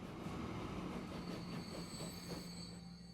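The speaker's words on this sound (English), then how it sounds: "this is my train running" Train in the video game Transport Fever 2, running steadily with a continuous rumble, faint wheel squeal and clickety-clack rhythm, heard alone without speech.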